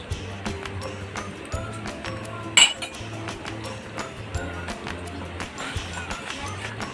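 A utensil scrapes and clinks repeatedly against a pot as a tilapia sour stew is stirred after calamansi juice goes in, with a steady clattering rhythm, one sharper knock, and faint talk in the background.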